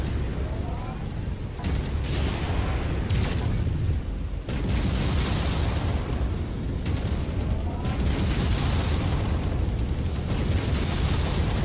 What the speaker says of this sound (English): My missiles are way off target.